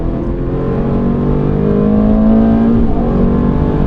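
Ferrari at full power on the Mondello Park race track, a loud, close engine roar with a steady rising pitch, no talk over it.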